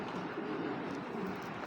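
Pigeons kept as a breeding pair, cooing in a low, continuous murmur close by, with a soft steady texture throughout and no speech.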